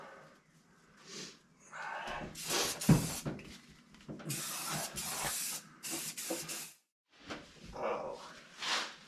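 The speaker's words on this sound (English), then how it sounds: "we'll set it with a bit of the CRC rust converter, and that'll be that" CRC rust converter sprayed from an aerosol can onto a car floor pan, with several hissing bursts of varying length broken by short pauses, close and fairly loud.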